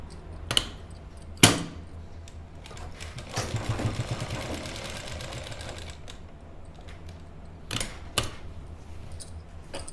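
A sewing machine stitching a lined kurti suit makes a short mechanical whir of about three seconds, set between sharp clicks and knocks of handling, close with no voice.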